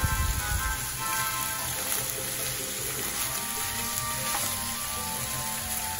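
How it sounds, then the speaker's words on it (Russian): Minced meat and onion fry in a pan for chili con carne, giving a steady, close sizzle with crackling pops and occasional stirring scrapes, continuous throughout and with no talk. "Лук с фаршем должны хорошо обжариться."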